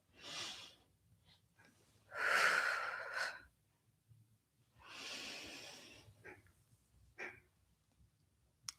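Deep breaths during a gentle Pilates workout, several soft airy inhales and exhales with audible rushes of air at close range, quiet between breaths.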